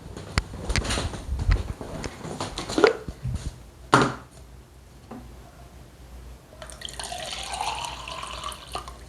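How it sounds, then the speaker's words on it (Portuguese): Water runs from a kitchen tap into a drinking glass, a hissing stream rising as the glass fills, preceded by a few clinks and knocks of handling the glass nearby. "Eu vou pegar uma água"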